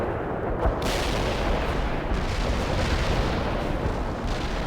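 Artillery barrage in the Soviet assault mission of World in Conflict, a heavy, continuous rumble of overlapping booms and blasts, loud and dense from start to finish with no talking.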